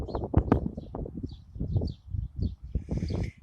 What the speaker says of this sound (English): I'm not sure if you can hear all the chirping.